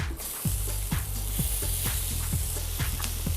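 Sliced yellow onion in melted butter sizzles steadily in a pan for a Thai curry, close and fairly loud, with a regular series of thuds from stirring about twice a second and no speech.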